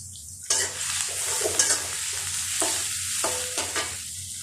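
Onions with salt frying in a pan for a tomato fish curry, a steady close sizzle broken by several sharp bursts as the food is stirred and turned, no voices.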